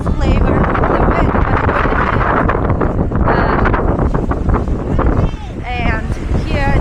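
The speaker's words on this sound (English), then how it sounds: "I feel the first flavor of the wind" Strong wind buffets the microphone beside a lake near Ushuaia, Argentina, a loud continuous roar with gusty swells throughout.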